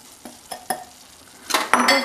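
Ground cashew and almond powder is stirred into a pan for dry fruit laddus, with a spoon giving several sharp scraping clinks against the metal, spaced apart at first and then in a louder, denser burst.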